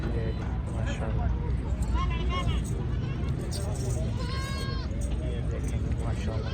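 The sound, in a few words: goat bleating at goat market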